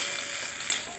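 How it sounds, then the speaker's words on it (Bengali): Shrimp and bottle gourd peel paste with coriander leaves is stirred in a hot pan, giving a steady, close sizzle with soft scraping and no voices. "ধনে পাতাটা দিয়ে একটুখানি হচ্ছে নেড়ে নিয়ে নাড়িয়ে নিচ্ছি।"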